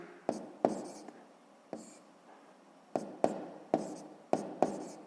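Pen or chalk strokes write out a sixth-grade math fraction solution in about nine short, sharp taps and scratches at an uneven pace, close up and alone.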